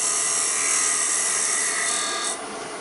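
A wood turning tool cuts steadily on a lathe spinning at high speed while shaping an oyster box, a loud continuous close hiss with a slight change near the end.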